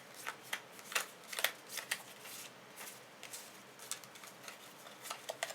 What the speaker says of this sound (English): so she has to shuffle